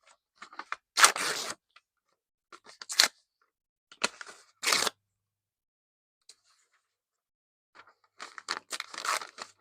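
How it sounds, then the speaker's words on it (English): Small Amazon papers torn up by hand, several bursts of ripping and crinkling separated by pauses, close and alone. "So I'm just going to tear these up."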